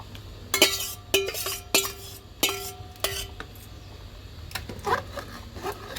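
Four eggs are stirred in a hot pan, giving a run of sharp utensil clinks and scrapes against the metal at an irregular rhythm, close and clear over a faint sizzle and low background hum.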